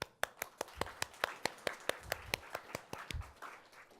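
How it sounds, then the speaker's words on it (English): Audience applause at an academic opening ceremony, though sparse: a handful of distinct, sharp hand claps in a loose, uneven rhythm, quiet and close, with no speech. "let me propose a round of applause to the C Center and the professional support team"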